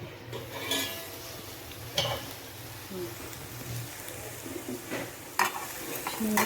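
A spoon stirring a cabbage and potato curry in a pan, close scraping and clinking strokes over a soft steady sizzle, with someone speaking briefly.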